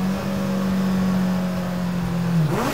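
Custom mid-engine Mini with a motorcycle-derived drivetrain revving to 13,000 RPM, a loud, close, sustained high-pitched engine whine holding steady before the revs swing near the end, with no talking.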